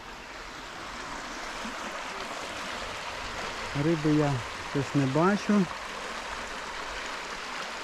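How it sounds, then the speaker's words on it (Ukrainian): The fast-flowing Opir mountain river in the Carpathians in September rushes as a steady broadband wash of water throughout, while someone speaks briefly over it midway. "Карпатські гірські річки течуть з високих гір на рівнини. Вони зі швидкою течією."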